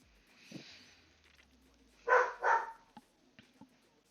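Two loud, close dog barks in quick succession, followed by a few fainter yips, in a quiet setting.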